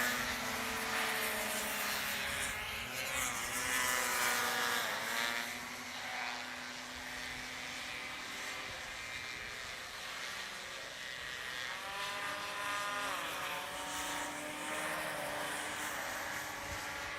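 Big four-stroke racing hovercraft, a yellow craft, roaring through a chicane at a hovercraft race meeting, with a loud sustained engine drone that rises and falls in pitch as other craft pass, heard at moderate distance without talk.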